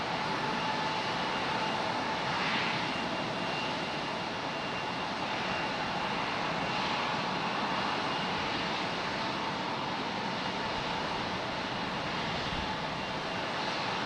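An Icelandair jet at Raleigh-Durham airport gives a steady, broad engine roar heard from a distance, holding even throughout as it gathers speed for takeoff.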